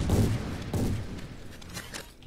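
Gunfire in the video game XCOM 2, a short burst of rapid shots and impacts at close range, loud and punchy, with no talking over it.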